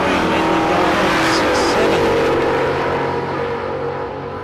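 Drag cars launch hard down a street-challenge strip, a loud roaring rush of engine noise with a brief tire squeal, fading slightly as they pull away.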